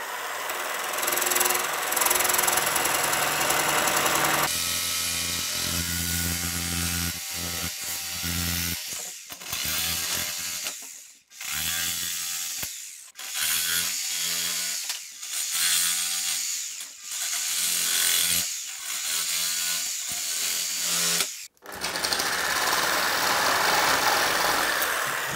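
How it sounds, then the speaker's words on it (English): A jigsaw at reduced speed with a down-cut blade, used upside down, cuts skirting board in loud, close buzzing stretches broken by short stops and restarts. "I'm using the jigsaw upside down so that I can see where I'm cutting."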